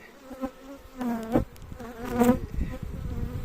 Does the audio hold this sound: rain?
no